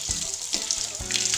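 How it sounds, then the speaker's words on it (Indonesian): Running tap water splashes over hands being washed for hygiene, a steady near stream with a few sharper splashes, fairly quiet and without speech. "Kita basuh dengan air mengalir."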